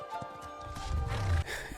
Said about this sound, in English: That's a weird horse.